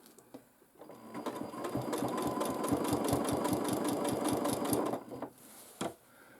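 A sewing machine hand-guided for quilting a baby quilt runs in a fast, steady rhythmic stitching burst for about four seconds, starting and stopping cleanly, fairly close and alone.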